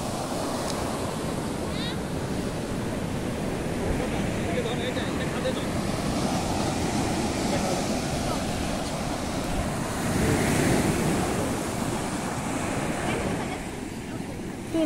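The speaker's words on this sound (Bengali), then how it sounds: "ভীষণ উত্তাল সমুদ্র, সাংঘাতিক ঢেউ দিচ্ছে এখানে, সাংঘাতিক ঢেউ।" Rough sea waves crash and wash ashore at Kalutara beach in a continuous, loud roaring surge mixed with wind buffeting the microphone, with the swell peaking briefly toward the later part.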